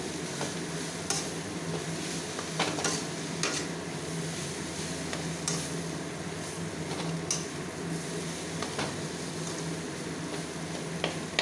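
Mashed potato for a rupchanda fish chop is stirred in a pan, with repeated scraping strokes and scattered taps over a steady low sizzle, close and moderately quiet.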